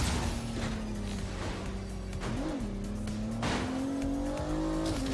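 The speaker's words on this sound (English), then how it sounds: "Why the hell is my car picking up so much goddamn speed?" Car in the Agents of Mayhem video game speeding up, its engine drone climbing steadily in pitch with a brief wobble of tire noise midway, loud and continuous with no talking.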